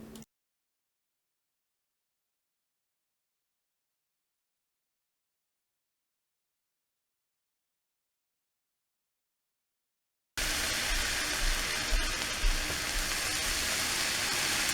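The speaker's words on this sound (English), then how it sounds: "I hope you enjoy that sizzle as much as I do." Silence, then a loud, steady frying sizzle of a grilled cheese sandwich in a pan starts abruptly and crackles on without pause.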